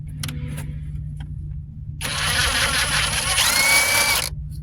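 A pneumatic impact gun works on the hub bearing bolts of a 2006 Dodge Grand Caravan, giving a loud sustained whirring rattle for a couple of seconds after brief clicks and quiet.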